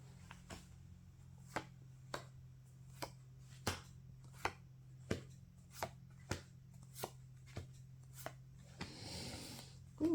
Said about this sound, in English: So that's a lot of shuffling.